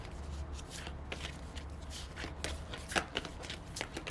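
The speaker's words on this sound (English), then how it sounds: "So we're going to draw 3 cards." A tarot deck is shuffled and cards are drawn, producing quiet, crisp riffling and flicking bursts in a loose rhythm, with a slightly sharper slap of a card near the end.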